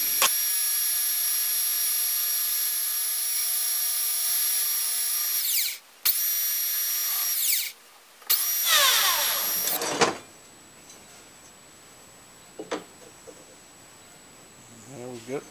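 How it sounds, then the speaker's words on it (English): A belt sander runs loud and close on wood with a steady, high whine, cutting out briefly twice before stopping, followed by a few faint clicks and knocks. "Now I can belt sand it down."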